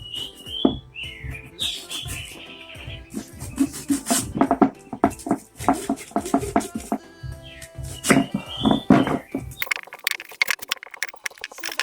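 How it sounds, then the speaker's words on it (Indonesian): Banana corm, washed clean, chopped into pieces with a knife: a run of sharp, close cuts in an uneven rhythm, with birds chirping in the background throughout. "Kemudian, kita potong menjadi beberapa bagian untuk mempermudah penghancuran."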